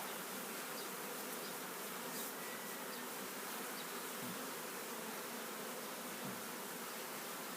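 Steady, dense buzzing of many honeybees around a hive, continuous and fairly faint, filling the whole stretch with no talking.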